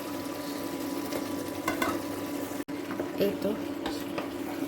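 Raw jackfruit stirred into well-cooked spices in a pan gives a low, even sizzle with occasional scraping and clatter, and a voice briefly speaks.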